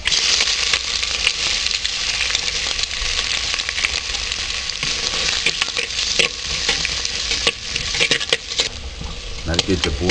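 Continuous sizzling and crackling of spices, shallots and onions frying in hot oil, with scraping stirs and occasional clinks, close and loud.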